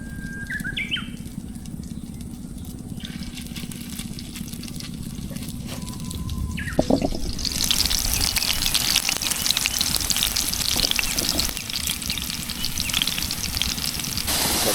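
Small round prawn fritters (chingri macher bora) drop into hot oil in a village kitchen, breaking into dense, crackling sizzle that grows louder and busier partway through and keeps spattering steadily, with faint chirps in the background.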